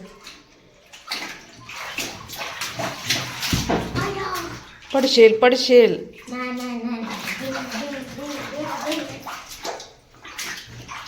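Tap water runs and splashes while a kitchen counter is cleaned at home, coming in uneven bursts under frequent talk from an adult and a child.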